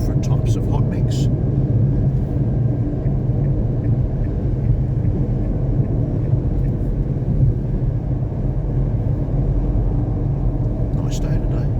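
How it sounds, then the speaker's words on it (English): Steady low rumble of tyres on hot-mix road surfaces inside a Renault Duster 4x4 with a 1.2 petrol engine and manual gearbox, continuous and even throughout with no talking. "you do hear the tyre noise and on the change of road surfaces to different types of hot mix"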